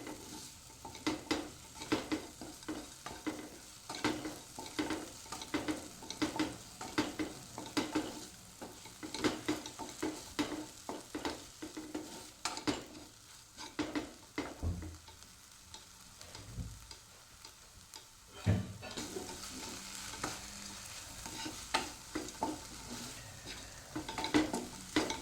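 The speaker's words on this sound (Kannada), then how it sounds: "ನಾನೀಗ ಇದನ್ನು ಚೆನ್ನಾಗಿ ಸೌಟು ಹಾಕಿ ತಿರುಗಿಸ್ತೇನೆ" Ladle stirring tomato, onion, ginger and chutney masala frying in a pan, with steady sizzling and repeated scraping strokes close by, no talk.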